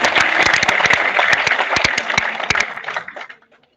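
A seminar audience gives a hearty round of clapping, dense at first with sharp individual claps standing out, then thinning and tapering to a few last claps before silence.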